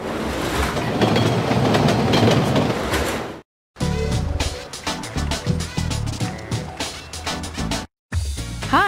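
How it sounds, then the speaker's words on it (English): A subway train in the 2003 CD-ROM game My Scene rumbles and clatters loudly with rhythmic wheel clacks, broken by two brief silent cuts, ending with a short squeal. "okay, here's the subway."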